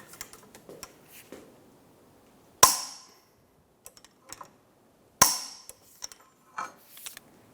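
Two sharp metallic hammer strikes on a chisel staking a Toyota Highlander axle nut, several seconds apart, each ringing briefly, with small clinks and taps of tools in between.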